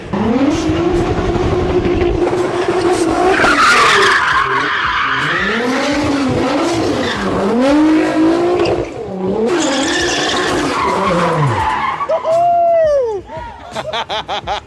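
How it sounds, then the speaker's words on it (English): A rear-wheel-drive Nissan GTR drift build drifting, with loud sustained tire squeals that rise and fall, engine revving and skidding from close by, ending with sharper chirps. "It's rear wheel drive and he drifts it."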